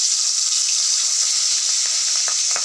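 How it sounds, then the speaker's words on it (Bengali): Pabda fish frying in mustard oil, a loud, close, continuous hissing sizzle with scattered pops and crackles throughout, no voices. "আমরা এক এক করে এবার পাবদা মাছগুলো তেলে ছেড়ে দিচ্ছি ভাজার জন্য"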